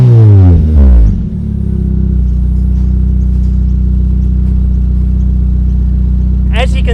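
A car engine cranks briefly, then catches and settles into a steady idle that runs on evenly, loud and close, with a short voice near the end; the engine had been treated with Nulon engine stop smoke after blowing white smoke.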